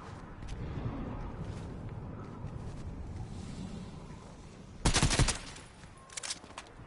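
A gun firing in the video game Fortnite, a short sudden burst of rapid shots that stands out loudly over quieter game background noise, followed by a fainter second burst.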